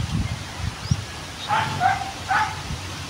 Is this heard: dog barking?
yes